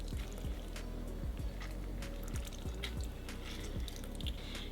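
Orange juice squeezed and dripping onto spices in a bowl, a series of soft wet drips and squishy plops at an irregular rhythm, close and quiet, with no speech.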